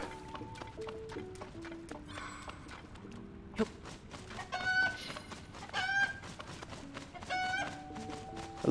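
A chicken clucks in Zelda: Tears of the Kingdom around Thyphlo Ruins, soft repeated clucks over quiet game ambience and faint musical tones.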